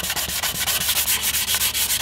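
Wet sanding a patch on a carbon composite blade with 600 grit wet sandpaper gives steady, close rubbing strokes in a quick even rhythm, each pass a soft rasp, with no voices.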